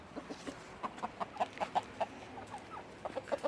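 Hens cluck softly in short, scattered bursts close by, with a rooster among them, over a quiet outdoor garden background.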